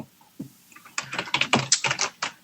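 Typing on a computer keyboard while entering an address: a fast, irregular run of close, crisp key clicks starting after a second of near quiet, with a few isolated taps before.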